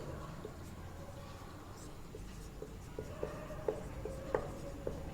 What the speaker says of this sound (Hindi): चलिए यहीं लिखते हैं